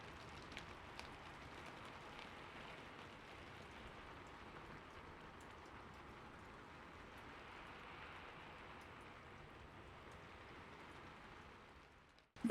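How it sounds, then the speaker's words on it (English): Steady rain falls in a soft, continuous hiss, an even broadband wash for nearly the whole stretch, moderately quiet and with no voices, ending in a brief louder burst at the very end. "Let the rain settle around you like a cozy quilt closing out the day"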